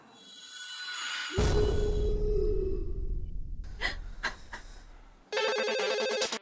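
A telephone rings alone, the bell pattern arriving near the end in a clear burst after a stretch of low rumbling and soft breaths, all without talk.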